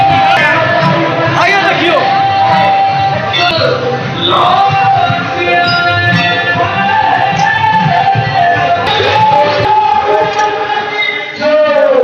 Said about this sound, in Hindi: बहुते भीड़ यहाँ से देखते हैं भाई